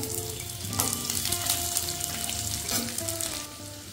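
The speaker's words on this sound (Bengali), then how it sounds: "এবার দিয়ে দেবো কাঁচা লঙ্কা, এবার কেটে রাখা পেঁয়াজগুলো দিয়ে দেবো" Green chilies and chopped onions hit hot mustard oil, producing a strong crackling sizzle with a few sharp pops and stirring scrapes, close and loud, alone without any talk.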